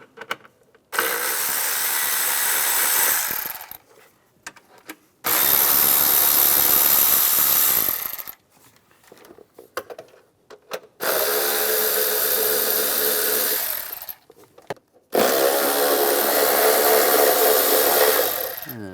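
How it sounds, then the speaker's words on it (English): A power tool with a 5mm hex socket loosens intake manifold bolts on a 2004-2010 BMW X3. Four long, close whirring bursts run a few seconds each, separated by short quiet gaps. "Loosen up these bolts. You're going to use a hex socket, a 5mm."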